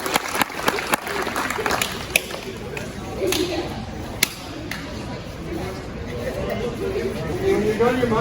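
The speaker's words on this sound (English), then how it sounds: "Give a round of applause." Scattered audience applause at an outdoor rendezvous competition with youth, loose claps and sharp cracks over a murmuring crowd.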